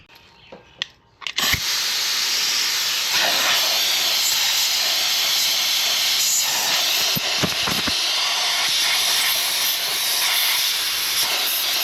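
Compressed air blasts steadily around the gearbox plug of an excavator, a loud, continuous hiss starting abruptly after a brief quiet opening and running unbroken to the end.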